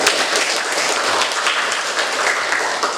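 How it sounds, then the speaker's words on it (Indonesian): A class of students claps together in steady, loud applause that holds for a few seconds. "Tepuk tangan untuk kalian"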